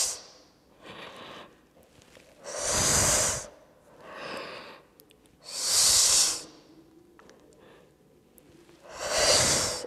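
Slow, deep breathing during a yoga back-strengthening routine, four long airy exhales in an even rhythm, close to the microphone with quiet gaps between them.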